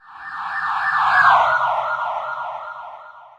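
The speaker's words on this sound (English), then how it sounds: "the siren of a police car or ambulance when it's travelling towards you?" A loud wailing police car or ambulance siren sweeps smoothly as it passes, its pitch bending from high to lower over a few seconds, with no voices.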